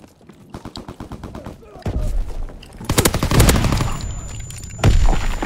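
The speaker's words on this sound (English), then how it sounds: "Whoa, that's a big stun grenade." A big stun grenade going off in a WW2 shooter, a loud sharp blast with ringing after it, preceded by rapid gunfire and followed by another burst, with a voice talking early on.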